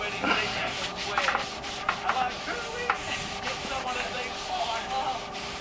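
Repeated rubbing strokes of a cloth working stain into wood, a soft scratchy swish in uneven rhythm, with a voice murmuring nearby.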